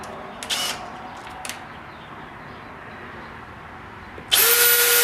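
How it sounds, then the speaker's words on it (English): A power drill drives a screw into a board during a pull-behind camper build, with a couple of short handling knocks first, then a loud, close whirring burst of the drill at the end. "Drive in one screw."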